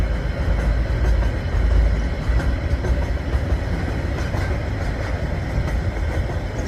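A KiwiRail freight train rolls through a Christchurch suburb: a loud, close, continuous rumble of wagons and wheels on track that holds steady throughout, with no talking.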